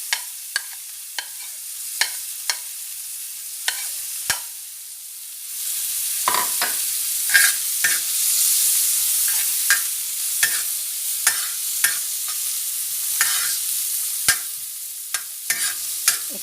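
Finely chopped onions sizzle on a hot tawa while being cooked for tandoori tawa chicken, a steady frying hiss broken by sharp scraping clicks of a spatula stirring at irregular intervals, close and moderately loud with no voices.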